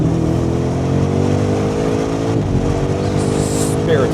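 A 2025 BMW M5 G90 with carbon-ceramic brakes accelerating hard at high speed, its engine a steady, loud drone with rising harmonics and wind roar, briefly dipping near the middle before pulling on.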